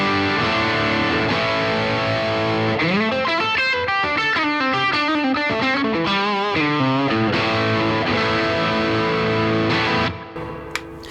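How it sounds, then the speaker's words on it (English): Electric guitar played through a Matchless Lightning 15-watt amp with overdrive and a boost pedal stacked for extra gain. Sustained distorted chords open into a busy run of notes and close on a ringing chord, loud and steady with no voice. "if I switch in the boost pedal as well"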